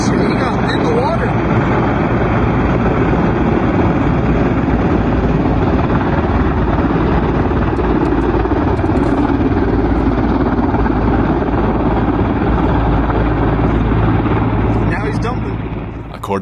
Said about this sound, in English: This Sky Crane firefighting helicopter was filling up water when it descended too low.